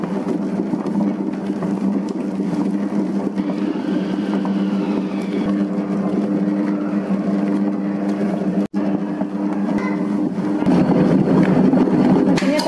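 A dough mixer machine kneading bread dough for burger buns, running as a steady, loud, continuous motor drone with a low mechanical rumble, with one brief dropout partway through and no talking.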